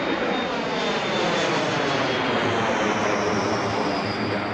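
A jet airliner roars down the runway on takeoff at Reagan National Airport, a loud, steady, continuous engine rumble that holds throughout without pause.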